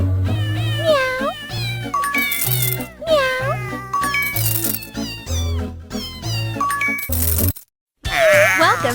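Cartoon kitten meows repeat in a bright, rhythmic pattern over upbeat party music in a pet care and hair salon game, with chimes and jingles between them.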